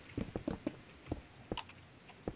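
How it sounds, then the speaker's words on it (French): Computer keyboard typing: quiet, irregular clusters of close keystroke clicks and taps with short pauses in between. "on entendait un peu trop les bruits de mon clavier"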